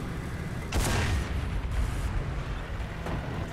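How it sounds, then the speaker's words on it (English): Machine gun fire from an Achilles tank in the War Thunder battle game: dense, rattling bursts that surge loudly near the start and again midway, over a steady roar of battlefield noise with no talking. "It's just firing its machine gun all over the place."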